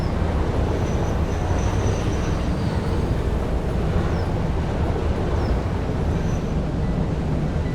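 A train rolls along on the rails in the factory-building video game Satisfactory, a steady low rumble of wheels and cars with faint higher whines over it, continuous and moderately loud.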